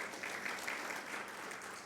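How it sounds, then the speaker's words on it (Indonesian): Church congregation applauding at a Sunday afternoon service, a steady wash of many hands clapping at moderate level throughout, with no voices standing out. "Yang setuju tepuk tangan panjang bagi Tuhan Yesus"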